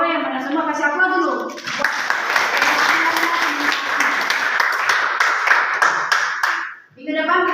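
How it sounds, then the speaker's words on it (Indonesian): Students in an Indonesian classroom break into sustained applause, loud dense clapping lasting several seconds after a teacher's short spoken prompt, with a brief voice returning at the end. "Kasih aplaus dulu."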